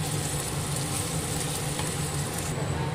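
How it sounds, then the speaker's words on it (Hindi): Spices and masala sizzling over a low flame in a pan while being stirred, a steady dense frying hiss with a low hum underneath, close and continuous with no talk, in a green chilli recipe. "अब इसे लो फ्लेम पे ही थोड़ा भून लेंगे"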